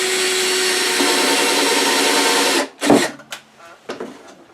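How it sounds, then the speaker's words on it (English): A power drill whirs steadily for a few seconds, drilling a pilot hole in wood for a table saw extension, then stops, followed by several short knocks and clatters. "So I'm going to drill me a little pilot hole right here"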